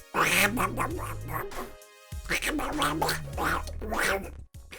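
Quacking of the duck character from the DuckTales video game: two loud runs of squawky, voice-like quacks with a brief gap between them, sounding close and clear.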